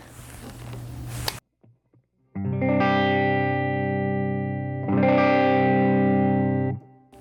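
Electric guitar through a Wampler Tumnus overdrive pedal, treble at 9 o'clock, plays two sustained, gritty chords, each ringing for about two seconds, after a brief burst of noisy strumming and a short pause.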